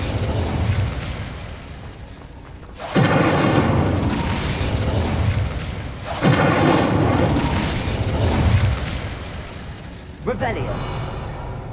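In the Hogwarts Legacy video game, the Incendio fire spell goes off in several loud whooshing, roaring bursts that start abruptly and then fade, separated by brief lulls.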